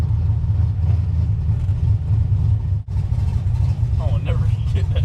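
A carbureted car engine running on nitrous, giving a loud low rumbling idle with revving, a brief cut near the middle and voices talking over it.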